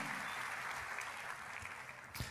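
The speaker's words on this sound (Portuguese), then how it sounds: "Vamos aplaudir essa galera aí, gente." A church conference crowd claps together in a sustained, fairly distant round of applause that stays even with a slight swell near the end.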